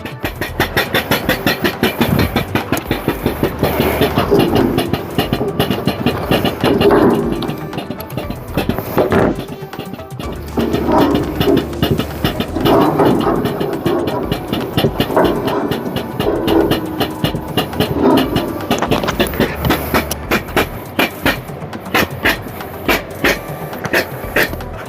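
A Harbor Freight pump labors to draw cold, thick waste motor oil, giving a steady, loud mechanical drone with a rhythmic engine-like pulse that runs continuously for the whole stretch without speech.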